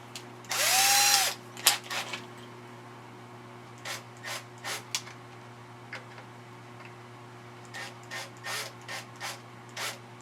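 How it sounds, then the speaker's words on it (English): A drill bores out rivets on a Piper Super Cub wing patch, one loud burst of drilling near the start, followed by a series of short scraping and ticking taps spread evenly over the rest, with a steady low hum underneath. "now I got three rivets that I got to drill out that I messed up on."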